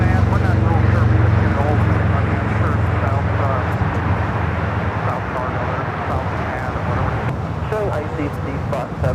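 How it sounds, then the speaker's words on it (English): A Lufthansa airliner taxiing at LAX after landing, its steady jet engine rumble and whine droning close by beneath someone talking over a radio-like channel. "we do have the Lufthansa King making his way over here to the south side after landing up there in the"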